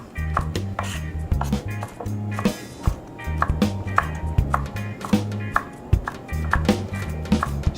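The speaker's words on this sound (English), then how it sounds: "we'll just go ahead and give them just a loose chop" A knife coarsely chopping pecans on a cutting board, a steady series of sharp close taps and knocks with a low hum of background music.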